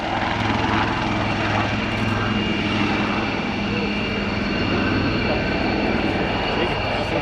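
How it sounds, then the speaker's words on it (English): Royal Navy Wildcat helicopters depart one after another at the Yeovilton air show, a loud steady rotor and engine roar filling the whole stretch, with a voice talking over it. "Troops down the deck, the lead aircraft departs"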